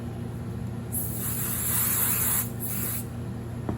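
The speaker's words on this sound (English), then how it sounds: "Maybe I'll do that with some basting spray." A can of basting spray hisses in two bursts, a longer spray followed by a shorter one, close and steady against a low background hum.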